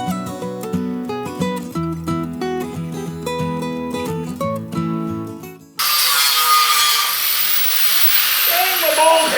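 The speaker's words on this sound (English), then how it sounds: "Okay, so I'm gonna grind these off so that my metal can set flatter." Angle grinder cutting down metal on a pop-up camper frame, a loud harsh steady grinding hiss that starts abruptly partway through after a stretch of other rhythmic tonal sound, continuing close up to the end.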